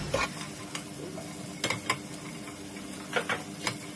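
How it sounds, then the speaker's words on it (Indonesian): Onions dropped into hot oil in a wok sizzle with a steady crackle, broken by a few sharp clicks and scrapes of stirring, fairly quiet and close with no voices. "Minyaknya udah panas, kita bisa masukin bawang bombaynya."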